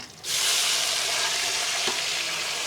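Chopped tomatoes hit hot oil in a pan for a village-style fish curry (meen kulambu), bursting into a loud, steady, hissing sizzle after a brief quiet start, with a faint stir clink near the end.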